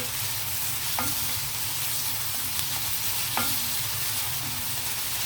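Onions with a pinch of turmeric frying in a pan while a spoon stirs them, a steady close sizzle broken by a few sharp scrapes of the spoon against the pan, no voices.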